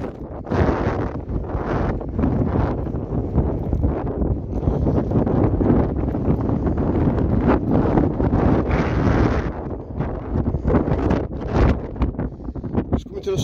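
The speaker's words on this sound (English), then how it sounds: "as you can hear, it's got really windy" Strong wind on a hilltop buffets the microphone in heavy, continuous gusts, roaring loudly across the whole stretch with no other clear sounds.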